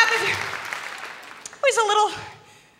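Comedy club audience applauding, with a short burst of scattered claps after a pause, while a voice talks over the start and laughter rises alongside.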